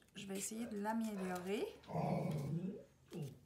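A dog growling in protest while someone cuts paper butterflies at a craft table, long low rumbling growls with rising whining tones, close and fairly quiet, with a person speaking.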